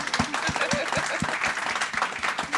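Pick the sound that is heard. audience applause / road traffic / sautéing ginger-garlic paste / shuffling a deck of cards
audience applause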